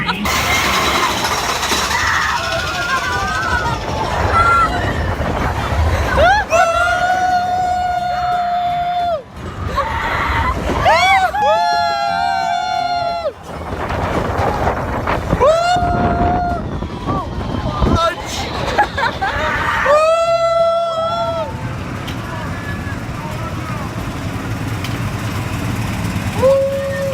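Theme park ride at Disney, a wild West-themed coaster with upside-down flips and a big drop, rumbles and rattles loudly throughout, with riders screaming in repeated rising bursts and a crowd of voices over the mechanical roar.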